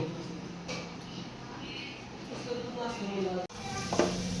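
Cumin seeds, crushed spice paste, green chili, garlic and coriander hit a hot pan and sizzle steadily close by, with a stirring scrape and a brief clank partway through.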